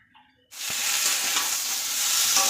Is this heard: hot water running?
no